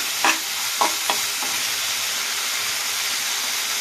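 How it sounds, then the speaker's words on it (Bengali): Chicken frying with kebab masala in an oven pan gives a loud, steady, close sizzle, with three or four quick stirring scrapes near the start before settling into an even hiss. "তো চলুন কিছুক্ষণ ধরে এটাকে ফ্রাই করে নিই"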